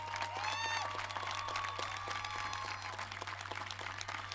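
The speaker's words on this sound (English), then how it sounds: "Let's give them a round of applause." Steady applause fills a high school graduation ceremony hall, heard faint and distant with a low hum underneath and a brief whistle near the start.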